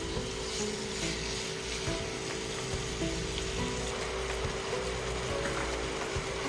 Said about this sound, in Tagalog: igisa lang natin yan hanggang sa mag color brown yan.